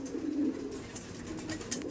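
Kaldom pigeons at a breeding loft in South 24 Parganas coo in a low, steady, continuous murmur close by, with faint rustling above it.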